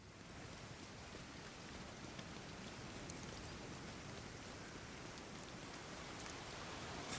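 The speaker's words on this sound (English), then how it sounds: "Actually, with this super heavy rain," Heavy rain falls as a steady, fairly quiet hiss of dense drops, even and unbroken throughout, with no voices.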